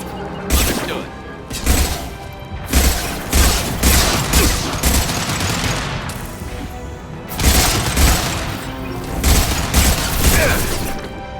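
Heavy bursts of automatic gunfire and deep booms from a grenade blast roll through a Mass Effect 2 Remastered firefight, loud and dense, with rapid thumping shots pausing briefly before resuming.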